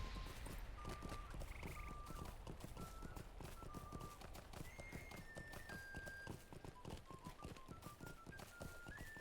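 Horse hooves clip-clop steadily in the Lord of the Rings Online video game during horse races, a quick continuous trot with occasional whinnies, while game music tones and ambience play beneath.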